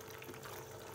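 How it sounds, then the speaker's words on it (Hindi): A steady, close stream of water runs into a pan of prepared fish curry masala, with an even gushing pour and no talking. "अब हम इसमें पानी ऐड कर देंगे।"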